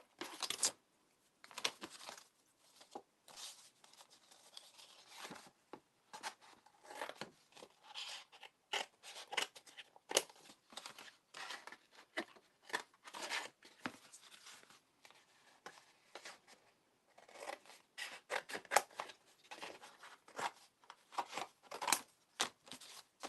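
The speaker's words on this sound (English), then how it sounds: "Then we can cut our base out." Scissors snipping and cutting out a card base for a collagraph print, a long run of quick, close, quiet cuts and paper rustles in irregular bursts with short pauses between them.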